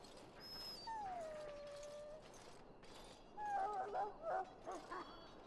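A wounded war dog in Dragon Age: Origins whimpers in a long, falling whine. A burst of shorter, wavering whimpers and yips follows, close and fairly loud over faint background game ambience.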